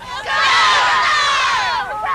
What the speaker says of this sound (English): The women of Team 4 cheer their teammates on